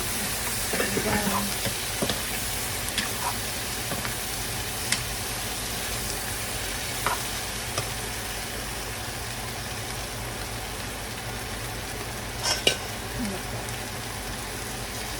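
Shrimp frying in a pan with sauce being added and stirred, giving a steady, close sizzle throughout with occasional small clatters of the utensil against the pan.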